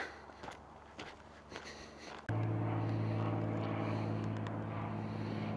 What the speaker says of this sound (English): Excuse the aircraft noise overhead.